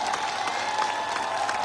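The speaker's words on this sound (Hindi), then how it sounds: "जोरदार तालियां बजाते रहे" Audience at a direct-selling event in Gaya, Bihar, applauding loudly: a steady, dense wash of clapping from a large crowd, unbroken throughout.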